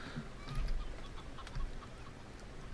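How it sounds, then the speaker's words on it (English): A chicken clucks faintly in the Lex Mortis video game. The soft, intermittent clucks sit low under a hazy background ambience. "Chicken? Is it chicken?"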